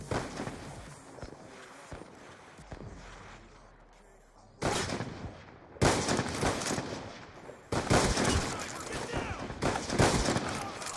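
Bolt-action sniper rifle shots in a 3v3 bolts-only competitive video game match, several loud sharp bangs in the second half of the clip, with game noise between them.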